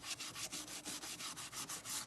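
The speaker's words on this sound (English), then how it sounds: "These are not sanding pads. They're burnishing pads" Burnishing pads rub back and forth over a painted wooden carrier box, making about a dozen soft, rhythmic, scratchy strokes, close up and faint.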